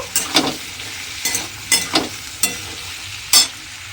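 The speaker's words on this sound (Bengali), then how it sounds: "দিয়ে এবার খুব ভালোভাবে একটু কষিয়ে নেব" Spice paste for paneer ghugni being stirred and sautéed in a pan, with a series of irregular scraping stirs over a soft, steady sizzle, close and moderately loud, no voices.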